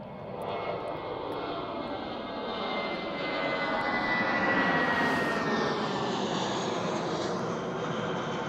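A fixed-wing aircraft flies over with a loud, sustained engine roar. The broadband rumble swells as it passes nearest and then holds on at a strong level.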